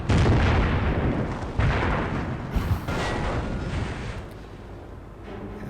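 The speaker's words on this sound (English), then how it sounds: "Also a Calliope somewhere in the back, doing air bombardment." Calliope rocket artillery pounds away in a Company of Heroes mobile battle, dense rumbling barrages of explosions and bursts rolling on continuously, loud and near at first, then easing slightly.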